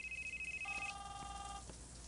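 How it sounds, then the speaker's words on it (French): A telephone rings with a high electronic tone that shifts to a lower two-tone chime, repeating briefly over quiet room hiss in a French-dubbed drama scene. "Eva, tu peux répondre à mon téléphone?"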